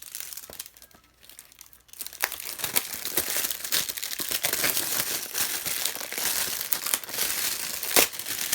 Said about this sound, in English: just going to kind of rip it open instead of trying to be neat with it and cut the box in the process